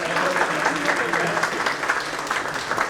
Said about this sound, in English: So can you please have a big round of applause for the whole of the.